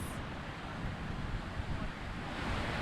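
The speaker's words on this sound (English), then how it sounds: "we tune into the sound of the waves" A continuous roar of surf, waves rushing and breaking with a fizzing wash and no voices.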